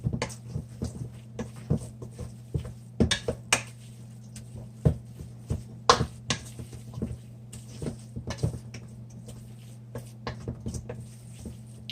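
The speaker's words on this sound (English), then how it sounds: "you just kind of want to mix it up real good" Roping squash being mixed with Parmesan cheese in a pan, with a utensil tapping and scraping the pan in quick, irregular knocks and soft squishes, close and fairly loud, with no talking.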